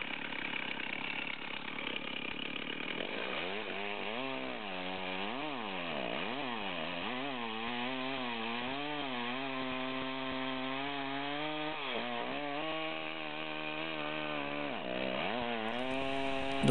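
A Stihl chainsaw runs steadily while bucking a log, its engine note rising and falling repeatedly as the chain bites and eases off the wood, close and continuous with no talk.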